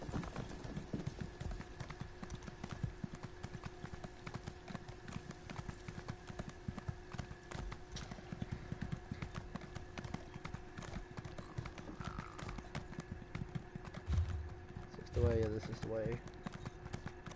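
Horse hooves clip-clop in a steady, continuous rhythm through the whole stretch as riders travel on horseback in Elder Scrolls Online, with people talking over the hoofbeats.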